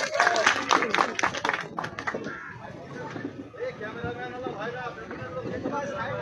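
An audience gives a round of applause to film actor Ilias Kanchan at a gathering. Dense clapping is strongest at the start, then thins out and carries on under loud talking voices.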